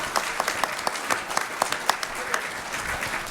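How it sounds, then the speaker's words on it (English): A modest audience at a civic club talk on the Affordable Care Act claps for the speakers, with individual hand claps standing out as a thin, scattered patter rather than a dense roar. "Let's give them a big round of applause."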